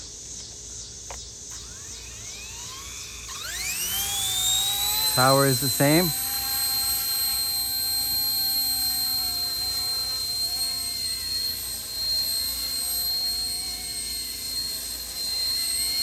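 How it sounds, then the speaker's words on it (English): A small RCERA C170 Apache model helicopter's motor, running on LiPo batteries, spins up into a high, steady whine that holds loud and close, with a brief voice speaking as it rises. "I bound the helicopter, bound it. Now we're gonna take off."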